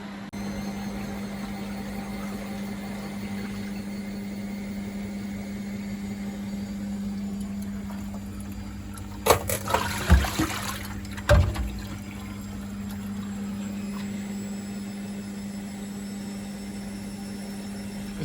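A Beko washing machine hums steadily through a spin-up while draining, with a short burst of rushing water and a few clunks midway, otherwise quiet and even.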